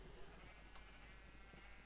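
A Minecraft sheep gives a single, very faint bleat in the middle of a quiet stretch of soft background sound.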